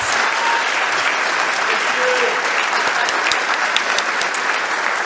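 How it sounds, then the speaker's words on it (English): Loud, dense audience applause at a school CTE and JROTC awards night, an even wash of many hands clapping that holds steady without pause from start to finish. "please give them applause"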